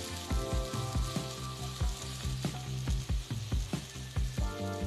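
Ginger garlic paste and chopped green chili frying in a pan, a constant sizzle broken by repeated sharp spoon knocks and scrapes against the pan as everything is stirred, close up.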